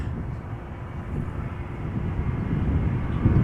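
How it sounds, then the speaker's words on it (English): A TUI Boeing 787 Dreamliner arriving from Bonaire at Amsterdam Schiphol produces a low, rumbling engine roar that slowly swells in loudness over a few seconds, with no voices. "Now let's quickly turn around and don't miss the TUI Dreamliner"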